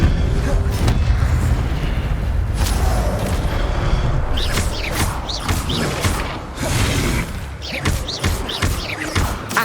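Fire spell cast in Hogwarts Legacy, a dense rush of whooshing and booming magical effects with crackling bursts and thuds, loud and continuous among other spell sounds.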